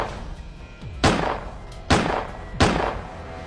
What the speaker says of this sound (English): they were met with gunfire from Gonzalez.